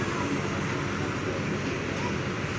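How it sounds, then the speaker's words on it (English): A Kenya Airways Embraer 190 jet sits on the apron at Kamuzu International Airport, giving a steady, loud engine roar with broad whine and rumble and no change through the short stretch. "this is Kenya Airways Embraer 190 from Nairobi"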